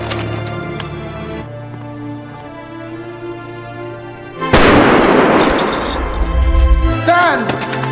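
A firing squad execution in a war film: first a held musical tone, then a sudden loud blast at about 4.5 seconds, with crashing, rumbling gunfire and impact noise filling the rest of the scene.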